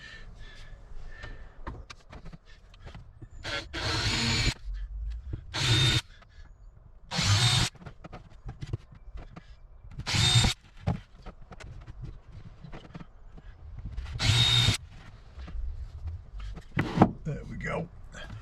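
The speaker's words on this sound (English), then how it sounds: "drill it from the other side" A power drill bores into wood while fitting a 12-volt TV inside a micro camper, running in several loud whirring bursts of a second or so each, separated by quieter pauses with handling noise and a person talking.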